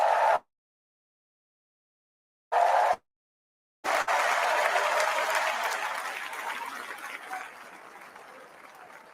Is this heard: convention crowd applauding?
yes